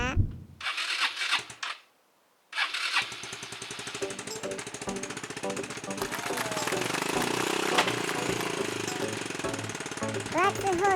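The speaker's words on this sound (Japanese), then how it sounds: "それではエンジンをかけてみましょう。" Yamaha Majesty 125 scooter with a rough-running, afterfiring engine cranks briefly, pauses in silence, then starts and settles into a loud, steady rattling run with a faint rise in revs.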